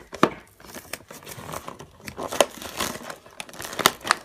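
A Shopkins Season 3 12-pack toy package being opened by hand, with crinkly plastic crumpling and tearing in irregular bursts, close to the microphone and with no talk over it.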